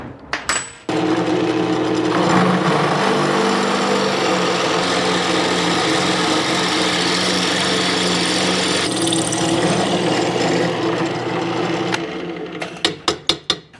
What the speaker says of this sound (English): got the hole drilled, got them all beveled out, looking decent